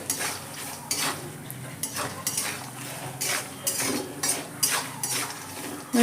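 Cumin and poppy seeds are stirred in hot oil in a pan: a soft background sizzle with repeated scraping strokes and light metal clinks from the spoon at an irregular rhythm, no talking.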